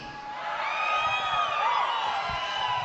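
A large crowd cheers and whoops at a Bassmaster Classic bass tournament weigh-in, a sustained roar of voices filling the space throughout.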